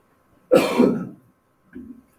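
One person gives a loud, close cough, followed a moment later by a softer, shorter throat-clearing cough.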